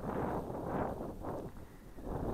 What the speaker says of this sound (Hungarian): baromi hideg szél fúj